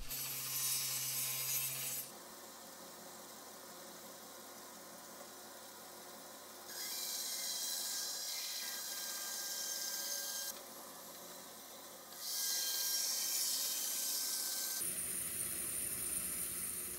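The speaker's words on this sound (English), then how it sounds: "first I'm going to cut off the end to be used later on the neck" A saw cuts the end off a block of acoustic guitar wood, giving a sustained rasping, scraping sound in several stretches of differing intensity, close and alone with no talking.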